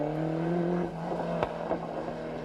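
Willie Singleton's Blue Gas Ford Sierra Cosworth rally car at the 1995 Cork 20 International Rally, its engine droning steadily and then shifting in pitch as it drives past, with no talk.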